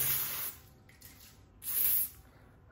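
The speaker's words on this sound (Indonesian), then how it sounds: "kemudian kita buka WD nya nah ini kita semprotkan" Two short bursts of WD-40 sprayed from a can onto a folded tissue for cleaning the tires of an Ichibot line follower robot, a close hissing spray, the second burst slightly longer, with quiet gaps between.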